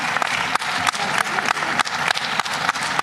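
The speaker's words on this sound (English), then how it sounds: "Let's give them a round of applause." Sustained applause from the crowd at a political party's provincial congress, dense clapping from many hands at close range, steady and loud with no voices over it.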